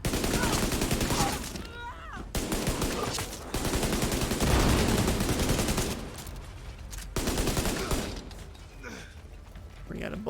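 Sustained assault rifle fire in The Division 2, dense rapid bursts filling most of the stretch with brief gaps, loud and close, with a voice talking over the shooting.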